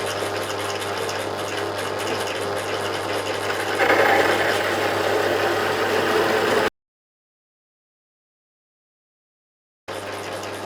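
A grinding wheel works a V-rail on a CNC machine setup, giving a steady mechanical whir that grows louder and harsher partway through, then cuts off to silence before briefly resuming.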